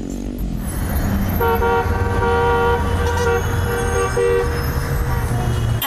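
Collective taxis honk in the streets of Lima, a loud sustained horn blast rising over rumbling traffic and engine noise, with short further toots near the end.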